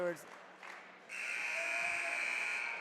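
Timeout horn at a high school boys basketball game in a gym, a steady electronic buzz that starts partway through and holds loud and unbroken to the end, after brief crowd noise.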